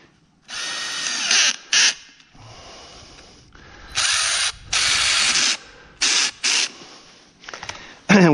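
A ratchet tightens a no-hub coupling on a PVC drain pipe, giving bursts of loud, harsh clicking and whirring in short repeated strokes with brief gaps between them.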